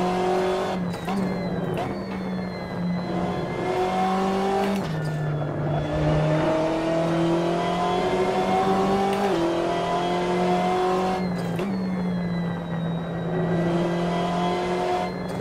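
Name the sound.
BMW M8 GTE engine accelerating in Assetto Corsa video game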